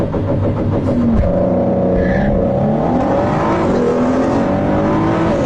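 A drag race car launches from the line on launch control, its engine roaring and rising in pitch through a gear, loud and sustained.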